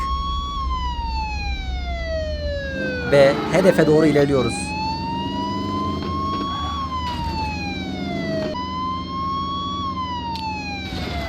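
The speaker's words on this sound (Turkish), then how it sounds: "Evet polis sirenimizi açtık." A wailing police siren in a driving simulator game sweeps slowly up and down in steady cycles, loud and continuous, with someone speaking briefly over it and a rumbling engine underneath.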